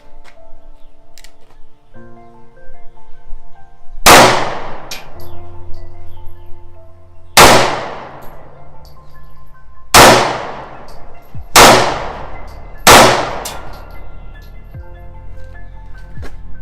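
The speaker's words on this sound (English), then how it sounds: "let's shoot some guns real quick" Five sharp gunshots ring out outdoors at a shooting range, each followed by a ringing decay as rounds strike steel targets, spaced a couple of seconds apart over a low steady hum.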